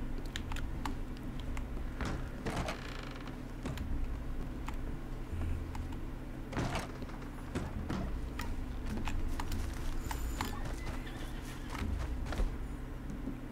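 Horse noises from Red Dead Redemption 2 hold steady across the whole stretch, with neighs and whinnies rising at intervals over a constant ambient bed, plus scattered clicks and taps that resemble clip-clop.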